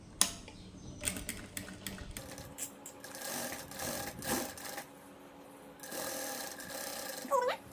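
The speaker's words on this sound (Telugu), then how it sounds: "ఇప్పుడు వచ్చేసి దీన్ని ఒకటి లూజ్ కుట్టు వేసుకుందాం ఫస్ట్ అయితే" A sewing machine runs loose basting stitches on a cut-work blouse, in quick rattling bursts with brief pauses between runs, fairly close and moderately quiet.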